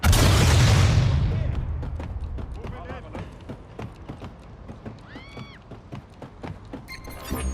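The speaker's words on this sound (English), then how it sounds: "Watch that grenade!" A grenade blows up in a spy video game, a heavy booming blast at the start that rumbles and fades, followed by scattered thuds and clicks, with radio-style voices talking afterward.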